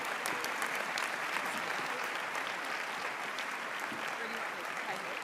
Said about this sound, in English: give each other a big round of applause